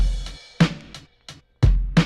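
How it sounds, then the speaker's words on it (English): A dry drum beat programmed on an MPC with no effects plugins: punchy kicks and short, thin snare-like hits in a sparse rhythmic pattern, each hit decaying quickly into silence. "Without all the effects plugins, the drums sound like this."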